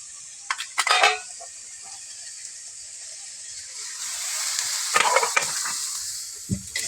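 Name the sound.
stirring boiled kharkol leaves in a pan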